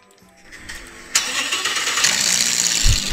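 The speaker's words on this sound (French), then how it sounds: "Allez, c'est parti, allume les moteurs." A car engine in the Minecraft video game cranks over and catches, then settles into a loud, steady running roar that builds slightly.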